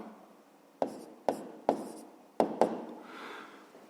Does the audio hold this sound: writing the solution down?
yes